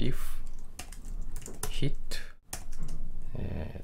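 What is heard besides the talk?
typing Java code on a computer keyboard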